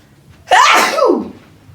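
A single sharp, loud sneeze close by, bursting out suddenly and trailing off in under a second.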